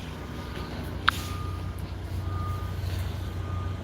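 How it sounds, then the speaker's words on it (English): A backing truck at a truck stop sounds its reversal beeper in three evenly spaced beeps over a steady low idling engine rumble, with one sharp click early on and no talk. "There's a guy backing up here next to me, and there's a box truck next to me."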